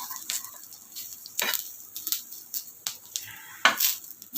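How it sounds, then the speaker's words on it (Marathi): Onion and coconut being dry-roasted and stirred in a pan for home-made masala, with a spatula scraping and clinking in irregular strokes over a soft, steady sizzle. "कांदा आणि खोबरं आपण भाजून घेतोय."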